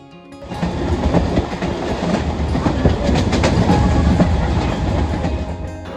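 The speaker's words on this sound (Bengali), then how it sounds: "ট্রেন লাইন আর চাকার ঘটঘট শব্দে গন্তব্যের দিকে ছুটে চললাম।" Train wheels clatter steadily on the rails along the line toward Namkhana station in West Bengal, a loud, continuous rolling rumble with rhythmic clicks that holds throughout without any talk.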